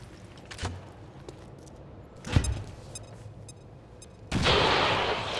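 A frag grenade goes off in XCOM 2, a sharp blast at mid-clip followed by a sudden loud, sustained roar of debris and rumble near the end, with smaller impacts and game sounds before it.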